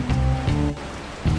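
Steady rain pours in an animated cartoon, a dense, loud hiss of falling water with a low rumbling undertone filling the short moment without any voices.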